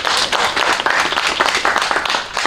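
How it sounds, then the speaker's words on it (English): A crowd at a political party's visit to a Zulu king breaks into applause, brisk uneven clapping throughout, close and lively. "Please, people, give him a round of applause."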